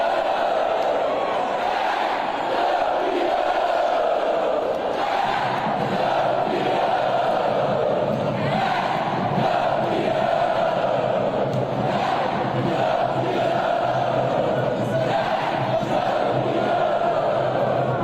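Corinthians supporters in a packed stadium after winning the Copa do Brasil fill the air with a dense, continuous roar of chanting and cheering, loud and steady, with no single voice standing out.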